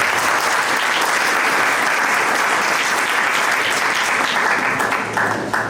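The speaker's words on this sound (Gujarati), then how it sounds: "આ પહેલી તાળી આપ સૌ ખુશ થયા એની" Dense, sustained applause from an audience at a three-day religious observance fills the whole stretch, loud and steady with no voices over it, easing slightly at the end.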